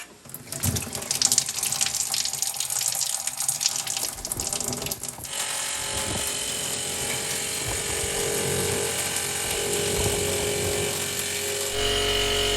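Water runs from a tap while a reverse osmosis system's pump hums and whines steadily, fairly loud and continuous, without any talking; an Aquatec DDP5800 booster pump running noisily.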